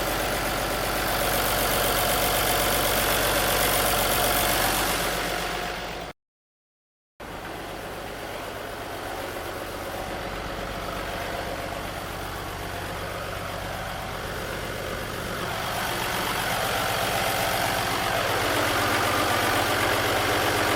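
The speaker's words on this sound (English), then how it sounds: "there's the engine running and everything" An International 9200i truck's large diesel engine idles steadily nearby, a constant low rumble with a mechanical hum, briefly cut by a moment of silence.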